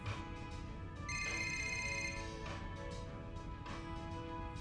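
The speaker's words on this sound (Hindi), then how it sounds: "किसका फोन हो सकता है?" A telephone rings in a Hindi-dubbed horror film, with a quiet electronic ringtone of repeating bright tones in short bursts that carries on alone for several seconds with no talking.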